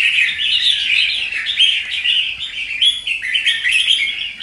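A red-whiskered bulbul sings loudly and close by, a continuous stream of bright, warbling chirps and rising whistles with no talking.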